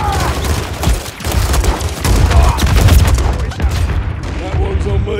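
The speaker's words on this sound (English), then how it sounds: "Keep laying down fire." Sustained rifle and machine-gun fire in a firefight from Call of Duty: Modern Warfare 3, the Highrise / Frozen Tundra mission, with dense rapid cracks and booms nearly throughout while voices talk over the shooting.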